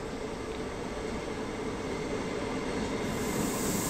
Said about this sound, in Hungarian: Nagyon szép ez a vonat.